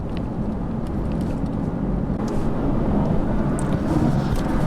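A Mercedes-AMG GT S in race mode, its engine rumbling loud and close from inside the car as it downshifts, with a deep continuous roar and faint clicks and rattles over it.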